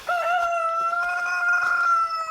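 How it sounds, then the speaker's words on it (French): A rooster crows in one long, loud, drawn-out call close by at a small backyard poultry and rabbit farm, with faint clucking from other hens beneath it. "Tu vois, j'ai encore des poules ici,"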